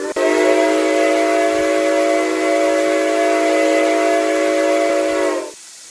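An American steam locomotive whistle in the video game RO-Scale Sandbox sounds one long, loud, steady chord-like blast with airy hiss, holding for about five seconds before cutting off abruptly.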